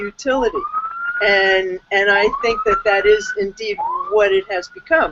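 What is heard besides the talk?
police sirens passing outside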